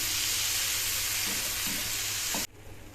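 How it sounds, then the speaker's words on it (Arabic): Tomatoes cook down in a pan with a loud, steady hiss of sizzling and simmering, a few soft stirring scrapes, then the sizzle abruptly drops to a quieter bubbling near the end. "نسيب بقى الطماطم تتسبك خالص لغايه ما تنزل ميتها وتنشف"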